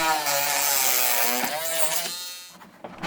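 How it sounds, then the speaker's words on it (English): A power tool cuts through a 3D printer's panel to make an Ethernet port opening on a Qidi X Smart 3, a close, harsh, high buzzing whine that holds steady, shifts pitch midway, then winds down near the end. "So I've finished cutting the panel now"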